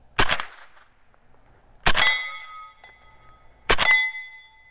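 Three sharp suppressed AK rifle shots fitted with a Banish Backcountry suppressor, each a hard crack spaced about two seconds apart, followed by a ringing metallic ping from a steel target after the second and third shots.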